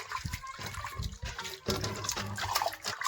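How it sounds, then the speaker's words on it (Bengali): Bottle gourd leaves are washed one by one in a basin of water, giving close, irregular splashing and trickling with short pauses between strokes. "পাতাগুলো এক এক করে ভালো করে একটা একটা করে আমি ভালো করে ধুয়ে নেব"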